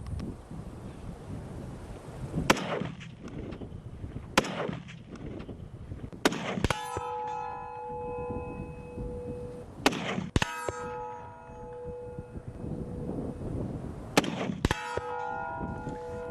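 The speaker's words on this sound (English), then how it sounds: "The drill is going to be 300 yards, 5 shots on a man-sized steel silhouette. I'll be shooting the M1 Garand 30-06." An M1 Garand .30-06 rifle fires at a man-sized steel silhouette 300 yards away. Loud sharp reports come at uneven intervals, some followed by bright ringing clangs from the steel, all over constant wind noise.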